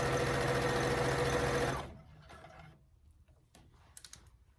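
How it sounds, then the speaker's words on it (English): A sewing machine stitches a 3/8 inch shoulder seam on a top, running in a loud steady whir for under two seconds before stopping, followed by faint clicks and handling noises. "So we're sewing a 3/8 inch seam, and you want to make sure everything is flat."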